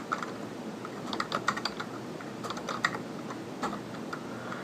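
Keys clatter on a computer keyboard while entering a formula into an Excel spreadsheet, a steady run of quick close clicks with a few sharper taps, alone without talk.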